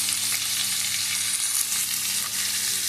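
Chopped onions sizzle steadily in hot oil for a dhaba-style dal tadka: a close, loud, continuous crackle that never lets up, with no talking.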